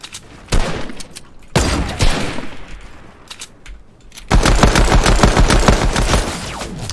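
Pistol gunfire in Fortnite comes as loud, rapid strings of shots, first in short bursts separated by brief pauses, then a sustained fast volley running to the end, with no talking.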